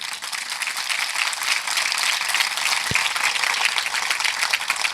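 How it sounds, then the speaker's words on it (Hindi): A crowd at a Jain religious memorial festival gives steady, fairly loud applause, an even continuous patter of many hands lasting several seconds without a break or any voices. "तालियों में दम नहीं आपके।"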